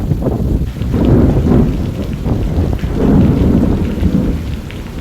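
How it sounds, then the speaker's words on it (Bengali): Heavy rain pouring steadily with deep rolling thunder swelling and fading, loud and close, no voices, during Cyclone Remal. "ঝড় বৃষ্টি শুরু হয়েছে"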